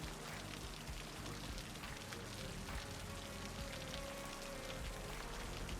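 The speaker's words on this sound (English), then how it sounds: "It's raining on the cauliflower." Video game rain pours steadily over a field of cauliflower crops, a dense continuous patter that holds at an even level throughout with no talk.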